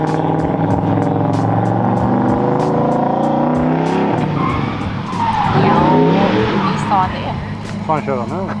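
Car tires skidding and squealing as a handbrake is yanked, a loud sustained screech with engine noise throughout, while people talk and shout nearby.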